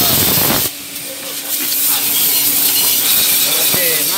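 Pressure washer spraying the underbody of a 1993 Toyota Kijang Super at a car detailing salon, a loud steady hiss that drops briefly then resumes continuously throughout.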